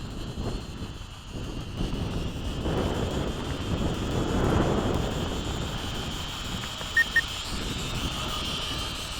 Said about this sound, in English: Wind is starting to blow pretty hard